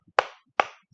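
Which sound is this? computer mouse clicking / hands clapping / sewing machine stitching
hands clapping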